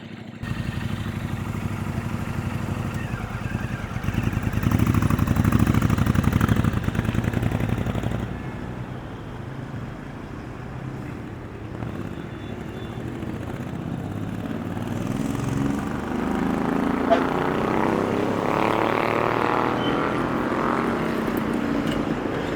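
A Royal Enfield Interceptor 650 motorcycle engine runs with a continuous, steady drone. It swells louder early on and then holds at a lower level, with no talk.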